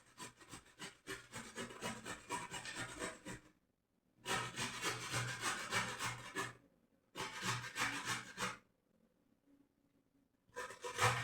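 Vegetables for borscht scraped against a grater in long, steady rasping bursts of a few seconds each, separated by short quiet pauses, close and clear with no talking.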